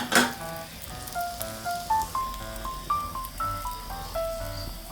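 A potato omelette frying in a pan crackles with a soft steady sizzle, mixed with squeaky tonal hissing bursts, close and moderately quiet, no voices.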